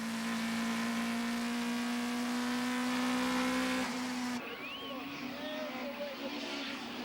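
Onboard a Nissan Sentra touring car racing in a closely bunched pack, its engine holding a steady loud drone that cuts off abruptly near the end, leaving lighter mechanical and wind noise.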